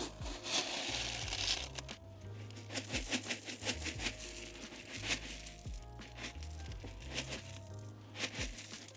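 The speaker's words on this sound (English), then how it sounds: "And we want to backfill with some washed gravel." Washed gravel pours and crunches as backfill around a simple sample well, with irregular gritty rattles and crackles at close range and low level.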